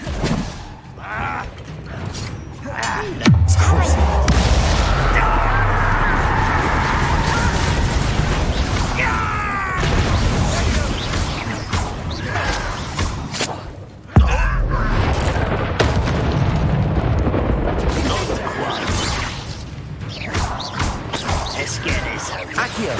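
Spell explosions from Bombarda and Confringo in the video game Hogwarts Legacy, with loud booming crashes, creaking debris and mechanical clatter over a sustained roar of combat, with a heavy thud midway.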